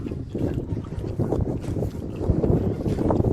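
Wind gusting on a winter mountain trail in Poland's Gorce range, a steady, loud rumbling roar buffeting the microphone throughout, with no voices.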